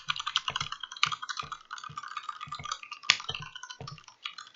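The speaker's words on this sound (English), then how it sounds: "So there are keyboards that are more noisy than this" Crisp, rapid keystrokes rattle from a tenkeyless computer keyboard without a numpad, typed at a moderate pace with a few louder clacks standing out, close and alone without talk.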